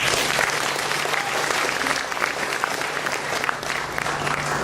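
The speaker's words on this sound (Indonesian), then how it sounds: "Tepuk tangan untuk kita semua." Students and officials at a university entrepreneurship workshop and trainer training clap together, a loud, sustained burst of crowd applause filling the room evenly for several seconds.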